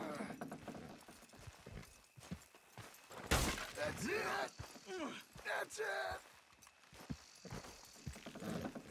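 Hooves clop in an uneven rhythm as horses strain and pull in Red Dead Redemption 2, with someone shouting encouragement over the effort and a brief sharp burst midway.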